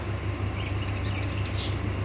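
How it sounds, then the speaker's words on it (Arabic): Lovebirds and budgerigars chirp in quick, high tweets over a steady low hum, several birds calling close together in a small aviary. "هاي المحمية المتواضعة والصغيرة لطيور الباجي أو طيور الحب"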